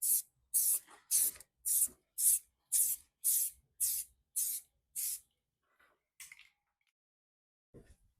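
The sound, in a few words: spraying etch primer on VW Beetle metal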